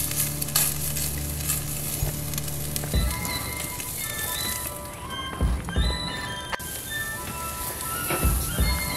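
A T-bone steak sizzles in a hot pan while being turned, with a dense continuous frying hiss and several clunks and scrapes of the turning tool, close by and fairly loud.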